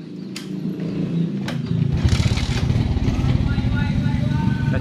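A Suzuki Smash motorcycle engine starting with a fault that makes it sputter and refuse to rev, heard as a steady close mid-low engine drone that grows louder partway through, with a few sharp clicks near the start.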